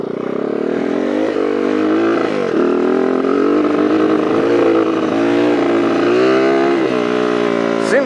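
A Honda CR80 two-stroke dirt bike engine held at part throttle, its buzzing note wavering and stumbling up and down, loud and close, with wind rush over it.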